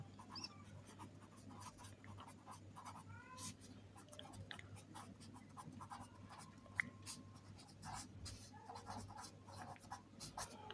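A pen scratches on paper while a geometry solution about a rhombus is written out, with quiet, irregular strokes over a low background hum and faint voice.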